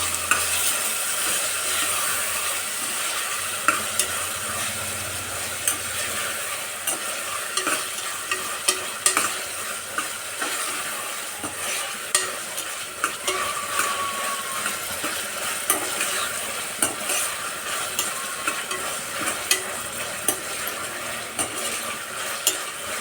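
Chopped brinjal sizzles and frying in a pan of tomato sambar with beans, stirred steadily with a spoon scraping the pot, brief clinks over a continuous close hiss with no talk.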